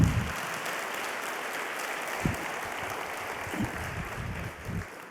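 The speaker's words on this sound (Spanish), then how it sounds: "Si le va a aplaudir, apláudale al Señor" A church congregation applauding steadily, a dense wash of clapping held at an even level for about five seconds, with a few louder bursts standing out within it.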